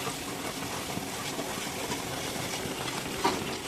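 Ghee being stirred into a Mysore pak mixture in a pan, a soft, steady scraping and gentle sizzle close by, continuous and fairly quiet, with no talk.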